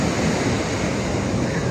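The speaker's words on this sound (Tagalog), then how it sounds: "so ang lalaki ng alon, sobra" Big sea waves crash and wash onto the shore in a continuous close roar, with wind buffeting the microphone.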